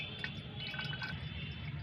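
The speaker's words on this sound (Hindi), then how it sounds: "तो पहले हम इसको छानते हैं।" Homemade liquid organic fertilizer being strained, giving a steady trickle and drip of liquid through a filter, close and continuous with no talk.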